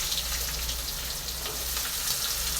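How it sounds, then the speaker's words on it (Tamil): Sliced large onions sizzle and crackle steadily in hot oil for an okra and curd curry, a continuous close frying hiss with small pops and no voices. "இது பொரியட்டும்"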